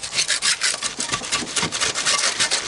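Wire brush scrubbing rust off a metal object pulled up by magnet fishing, a steady rapid back-and-forth rasping, close and loud, with no voices.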